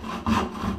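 Hand saw cutting through a wooden wall stud to trim it by a centimetre, a close, steady rasping stroke with a louder push midway through the short burst.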